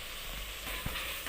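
Chopped mushrooms frying in a pan with onion and tomato for a mushroom biryani give a faint, steady sizzle, with a soft bump near the end as the mix is stirred.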